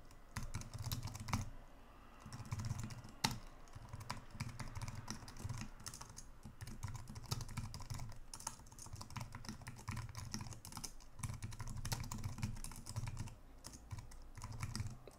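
Continuous computer keyboard typing while code is entered, with quick irregular key clicks and short pauses, close and quiet, and no voices.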